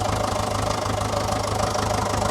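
A Fordson Super Major tractor diesel engine runs at a steady idle, with a loud, close, rhythmic knocking chug and no other sounds.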